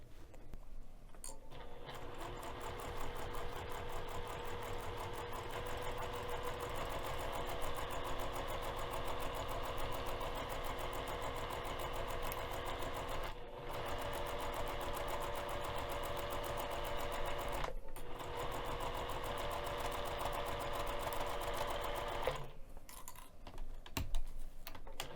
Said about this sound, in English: I'm going to machine baste the fabric to the foam along the entire outer edge using 1/8 of an inch seam allowance.